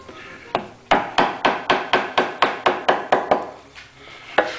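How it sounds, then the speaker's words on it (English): A carving gouge is struck down into wood end grain with a string of about a dozen evenly spaced, sharp, close knocks. A pause follows, then one last blow. "I'm going to try to drive this gouge down right until I land right on that tick mark."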